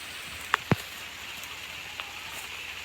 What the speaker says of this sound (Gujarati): हाँ हाँ वरसाद आई गयो।